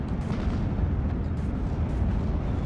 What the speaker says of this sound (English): But in comes the Nebelwerfer. And here we go with the artillery again.